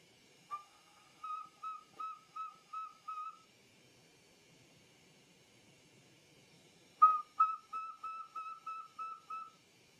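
A thin, high glass train whistle is blown in short repeated toots, two series of about six evenly spaced pips separated by a quiet pause.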